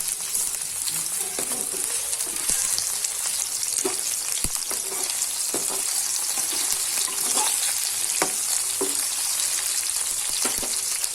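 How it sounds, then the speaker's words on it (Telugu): Chicken pieces deep frying in hot oil over a medium flame give a dense, steady sizzle and crackle up close, with occasional sharp pops and light stirring clicks throughout. "చికెన్ పీసెస్ వేసుకుంటున్నా. ఇలా వేసుకున్నాక మీడియం ఫ్లేమ్లో పెట్టి బాగా ఫ్రై చేసుకోవాలి."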